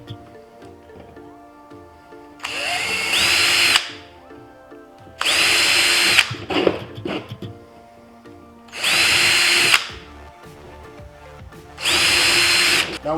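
A power drill bores pre-drilled holes into wood for a sliding pot and pan organizer, with four loud, close bursts of whirring motor about a second each, separated by quieter handling noises.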